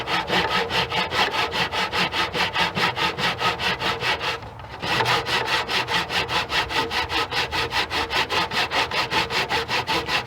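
A hand saw rasps through wood trim set in a miter box, a steady back-and-forth rhythm of loud, close strokes with a brief pause midway before the sawing resumes.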